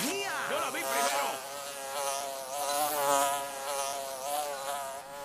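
A buzzing fly in an animated jungle cartoon drones continuously and loudly, its pitch wavering up and down as it moves around, with cartoon voices briefly over it.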